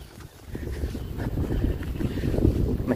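Cold wind on an open hilltop at Hampstead Heath buffets the microphone with a continuous low rumble that swells and gusts throughout.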